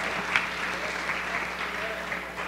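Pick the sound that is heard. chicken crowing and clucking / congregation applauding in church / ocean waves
congregation applauding in church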